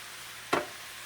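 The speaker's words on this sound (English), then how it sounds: "Just want to kind of keep that stirring a little bit." Cabbage and kielbasa cook in a skillet with a soft, steady sizzle, broken by one brief scrape of a stirring utensil partway through.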